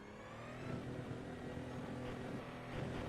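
Ferrari 499P hybrid prototype race car in the iRacing simulator, its engine droning steadily and fairly quietly with a whining hybrid undertone as the car rolls out of the pits, with a slight rise in revs toward the end.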